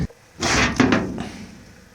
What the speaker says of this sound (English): So we'll lift our furnace doors off.